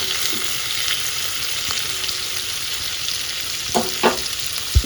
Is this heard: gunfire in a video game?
no